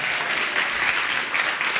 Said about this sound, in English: Let's give a big round of applause for Chris, Miriam, the entire staff, the MCs